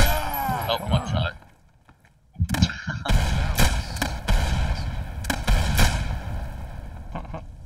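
Sharp gunshots from an SV-98 sniper rifle in a video game ring out in a loud burst of several cracks spread over a few seconds, with a brief quiet gap early on.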